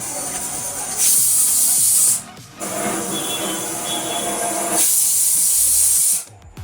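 A pressure cooker on the stove, cooking meat, vents steam in a loud, sustained hiss that rises in a couple of strong surges with brief dips between them, close by and with no one talking.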